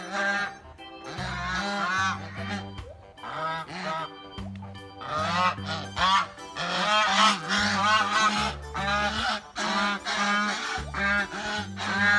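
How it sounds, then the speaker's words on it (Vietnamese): Farm geese honk repeatedly and loudly nearby, a dense run of overlapping nasal calls in uneven bursts with brief gaps between them. "con ngỗng"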